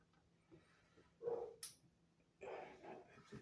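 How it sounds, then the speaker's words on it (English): Dogs bark outdoors, sounding faint and some distance away, with a few separate yelps and a louder burst of barking near the end. "All their dogs are doing is barking out here."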